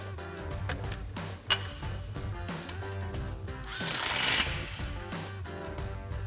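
A powered driver with a 15mm socket tightens an exhaust clamp on an MBRP Armor Lite single side-exit exhaust fitted to a 2022-2023 Toyota Tundra: a steady, close whirring motor drone with brief sharp clicks and surges, no voices.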